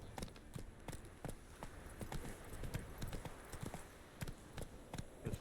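Roach the horse gallops in The Witcher 3, hooves striking in a steady, quick clip-clop rhythm, fairly quiet over a low game ambience.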